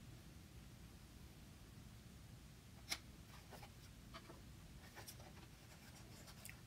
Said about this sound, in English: We will start by tracing and cutting out the parts of our lightning bug.